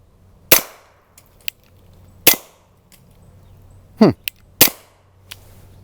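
Suppressed gunshots through a clean K-Baffle titanium suppressor crack out one at a time, with four sharp reports spaced unevenly across the clip and small clinks and faint shuffling in between.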